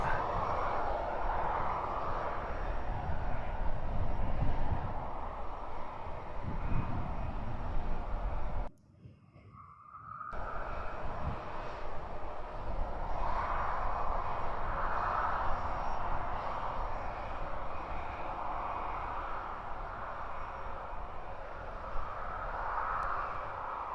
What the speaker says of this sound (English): Get a good sense of the actual speed of the aircraft but rotate.